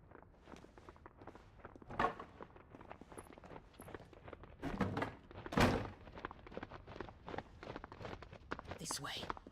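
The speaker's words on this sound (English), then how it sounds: "as soon as they bang that door, Torgal should be starting barking" A door bangs during a Final Fantasy XVI cutscene, with a few sharp thuds and knocks standing out over game dialogue and background sound.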